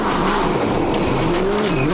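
A Subaru rally car driven by Petter Solberg roars loud and close on a loose gravel stage at Rally Japan. The engine note climbs and drops steadily, with a hint of tyre scrabble.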